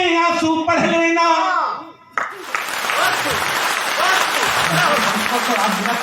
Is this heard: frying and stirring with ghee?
no